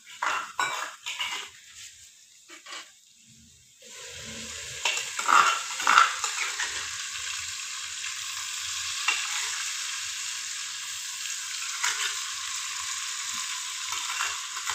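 Onions browning in a frying pan give off a steady, close sizzle, with a few clinks and scrapes of a utensil in the first seconds before the frying settles into a continuous hiss.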